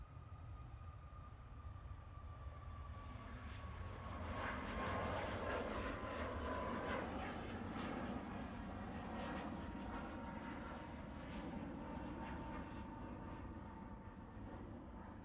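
A departing aircraft nicknamed the Beast of the East rumbles from a distance at Manchester Airport, a faint broadband engine roar that swells slightly midway and then holds steady.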